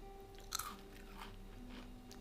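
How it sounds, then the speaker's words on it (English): A bite into crunchy homemade sourdough cinnamon toast crunch cereal, buttery and cinnamon-sweet, gives one sharp close crunch followed by a few faint chewing sounds over steady background hum. "Now for the true test, the crunch test."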